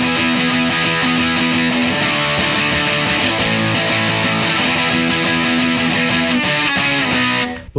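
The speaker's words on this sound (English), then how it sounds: "So the chorus is like a big, almost anthemic chorus, and it goes like this" Distorted electric guitar pounds out big, anthemic punk chords from the chorus of a song, loud and continuous with no talking, cutting off abruptly at the end.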